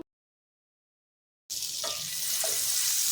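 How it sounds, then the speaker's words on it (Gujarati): After a second and a half of silence, butter starts sizzling loudly in a pan, a steady bright hiss with a couple of brief clinks. "એક પેનની અંદર બટર ઉમેરીશું"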